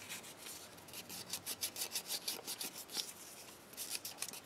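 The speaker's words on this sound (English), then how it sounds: "This is the wet dry sandpaper." A resin bead is rubbed on wet-dry sandpaper in quick, even back-and-forth strokes, a soft rasping rhythm heard up close and alone.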